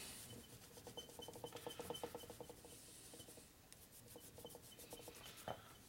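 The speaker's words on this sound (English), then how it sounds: "You just keep rubbing on it, see what happens." Rubbing on a Harley-Davidson Evolution 80ci motor part from a 2000 FXR4 to clean off black residue, a soft rhythmic scrubbing rasp with quick repeated strokes, close and fairly quiet, alone without talk.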